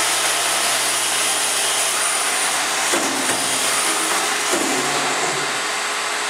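An eight-station index table machine runs steadily with a dense, continuous mechanical whir while two deep-hole drilling units bore mounting holes, with brief dips and shifts in the tone partway through.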